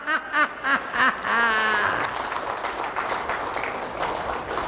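A man laughs loudly in bursts at a motivational laughter talk for a Gwangju employers' association, then steady applause from the audience fills the room and slowly thins.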